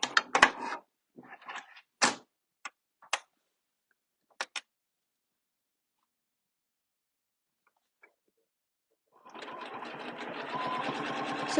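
A sewing machine quilting a mandala template design starts up near the end and runs steadily for a few seconds. Before it, scattered brief taps and handling clicks sit over near silence.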